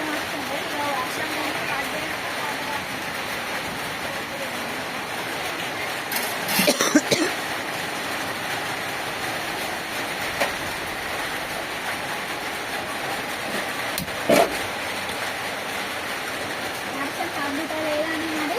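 Steady rainfall outside a home, a dense continuous wash of drops throughout, with a couple of brief louder knocks nearby.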